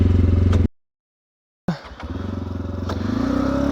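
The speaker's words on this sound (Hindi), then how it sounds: "बड़े आराम से और बड़े ध्यान से मुझे जो है ना बाइक चलानी पड़ेगी" Motorcycle engine running near Mangla Dam, a close throbbing idle that cuts out abruptly into near silence, then restarts with a clatter and settles back into a steady pulsing rumble.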